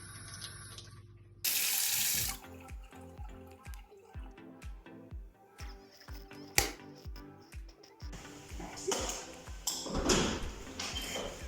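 Tap water pours steadily into a sink, a close splashing flow with drips and a few knocks of handling around the basin, with no one speaking.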